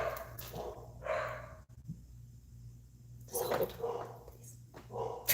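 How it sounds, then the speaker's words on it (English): Pet dogs at home bark and yip in short bursts near the start and again later, set off by someone arriving, with a person's voice speaking briefly over the noise. "So that my dogs are going to go crazy for a minute."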